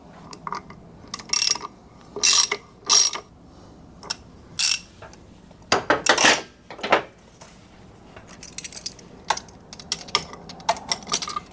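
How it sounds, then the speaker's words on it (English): Torque wrench tightening the clutch nut on a Suzuki DR650 motorcycle, a series of loud close ratcheting clicks in short bursts, each burst a few rapid clicks, followed by lighter fiddly metal taps. "Let's get her torqued down, snugged up, torqued down, get the lock tab bent"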